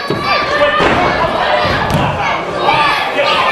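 A wrestling arena crowd jeering and shouting at an injured wrestler during a match, loud dense yelling with thuds and bursts of noise, close and continuous.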